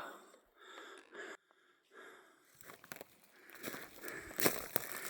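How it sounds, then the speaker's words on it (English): A hiker breathes hard after climbing a big hill on the Upper Rogue River trail, with close, heavy, wheezing breaths and puffs alongside rustling of gear. "just in case I'm breathing hard, that's because I am."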